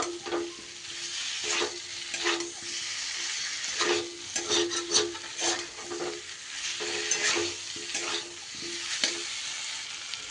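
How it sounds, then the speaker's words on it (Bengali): Fried potatoes and jackfruit being stirred into cooked spices in a pan, a steady sizzle broken by repeated scraping strokes of the spatula at an even rhythm, close and fairly loud. "মশলার সাথে ভালো করে মিশিয়ে নেব।"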